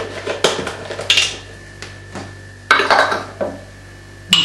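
Spoon stirring overnight oatmeal with milk in a bowl, a series of sharp clinks and scrapes against the bowl's side, irregular and close, with quiet gaps between strokes.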